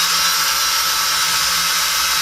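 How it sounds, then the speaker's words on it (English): A power drill bores through balls during a Helix magazine loading rod repair, a loud steady high-pitched whine held for a couple of seconds without a break. "So now I just have to drill the rest of the balls."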